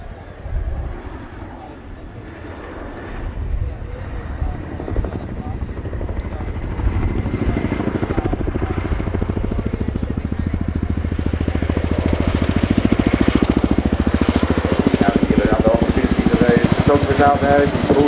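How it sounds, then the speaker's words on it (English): Royal Air Force Chinook HC.6A twin-rotor helicopter in a flying display at an air show, its heavy rotor thump and engine roar swelling steadily louder as it nears, with a commentator talking throughout. "The display you see today really demonstrates how manoeuvrable this extremely large helicopter is."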